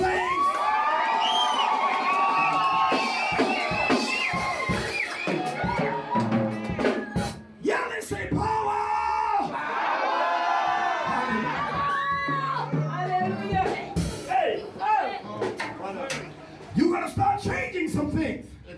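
A church congregation in The Gambia screams and cheers loudly and steadily, a dense crowd roar with whoops and shouts rising and falling and continuing without a break.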